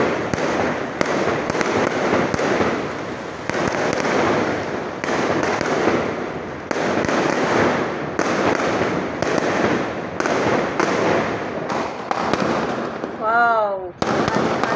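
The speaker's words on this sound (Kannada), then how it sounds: "ಪಟಾಕಿ ಹೊಡಿತಿರೋದು ನೋಡಿ." Firecrackers bursting in a rapid, continuous barrage of loud cracks during Diwali celebrations at a home, sustained for many seconds, with a brief whistling rocket near the end and voices faintly underneath.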